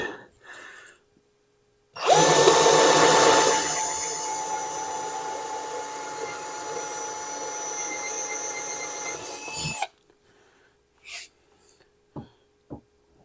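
A Black & Decker electric drill bores an 11/64-inch hole for mounting a 3-inch swivel vise on a workbench, a loud steady whine lasting about eight seconds, then a few faint clicks and knocks afterward.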